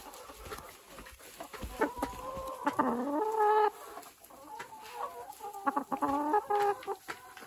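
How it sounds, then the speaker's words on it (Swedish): Hens clucking inside a poultry tunnel on a farm during bird flu season, a close flock giving overlapping, repeated clucks and drawn-out cackles with no talk. "Eftersom vi har hönsen här redan i tunneln den här tiden på året."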